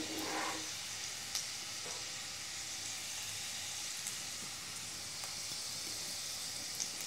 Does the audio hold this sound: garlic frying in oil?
yes